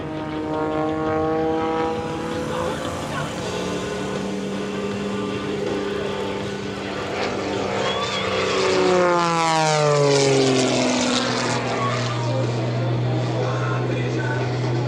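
Propeller aircraft engine at the EAA AirVenture 2025 airshow during a vertical climb, a loud droning buzz whose pitch rises then drops sharply as the plane passes, with a public-address voice faintly underneath.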